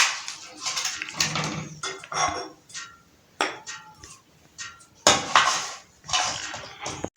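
A plate clatters and clinks while fried cauliflower, gobi 65, is served onto it. Spoon scrapes and ceramic knocks come in irregular bursts, with short quiet gaps between them.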